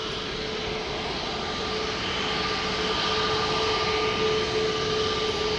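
An SAS Airbus A320neo jet airliner takes off from a Schiphol Airport runway, its engines producing a loud, steady roar with a faint whine held throughout.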